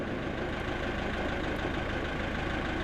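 A tractor engine runs during an onion harvest in a field, a steady low mechanical drone at moderate level, close and continuous without any speech.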